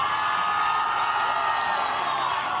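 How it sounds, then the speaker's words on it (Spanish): A crowd cheers and whoops for a climber reaching the top of the Taipei 101 skyscraper, a dense, steady wall of voices held at an even level throughout, with scattered shouts and some clapping mixed in. "El público estalló en aplausos cuando llegó a la cima."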